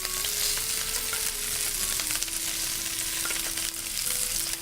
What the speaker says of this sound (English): So we're going to take our bok choy. We're going to put that right in the pan.